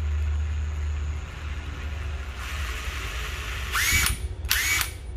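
A Makita cordless hammer drill being tested in hammer mode, giving two short, loud whirring bursts near the end over a low steady background hum.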